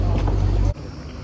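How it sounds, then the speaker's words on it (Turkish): Outboard motor on a Zodiac inflatable boat drones loudly and low on the water, then cuts off abruptly partway through, leaving quieter wind and water noise. "Evet, bu Zodiac botla teknemize doğru ilerleyeceğiz."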